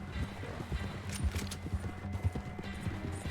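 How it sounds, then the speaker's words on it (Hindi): Horse hooves clip-clop in a steady fast rhythm as a horse gallops in the video game Red Dead Redemption 2, loud and continuous under a busy game soundscape. "मेरा घोड़ा कितना स्लो भाग रहा है।"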